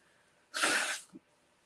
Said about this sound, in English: Yeah, I'll blow my nose on camera because I'm a human.